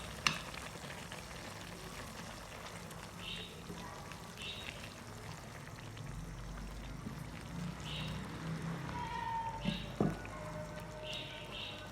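Chopped tomatoes dropped into a pan of buffalo beef curry, a steady sizzle and fry with pouring and stirring noises, close and moderately loud, with a few brief clatters of utensils.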